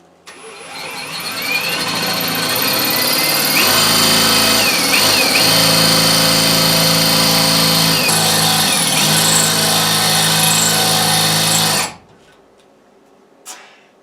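A loud rotary hammer drill grinds steadily for several seconds, its pitch dipping as it bites into hard fossilized limestone rock, then cuts off abruptly.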